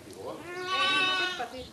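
A sheep on a Greek sheep farm with a cheese-making business gives one drawn-out, wavering bleat that rises and fades, fairly close and clear against a quiet background.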